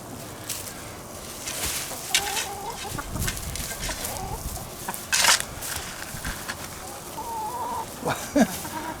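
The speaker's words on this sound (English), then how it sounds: "These chickens can't wait for me to dig." Backyard chickens cluck and murmur continuously nearby during potato digging, with scattered louder squawks and rustling, scraping sounds throughout.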